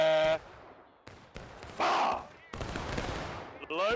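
Musket volley fire in the War of Rights video game, with sharp broadband bursts cutting in and out amid loud ragged gunfire and shouting voices over the top.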